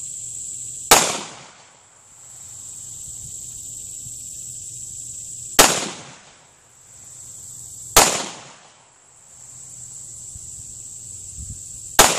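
Four sharp gunshots from a Smith & Wesson M&P9c pistol crack out at uneven intervals, each loud and close with a short decaying tail, over a steady high insect-like hiss.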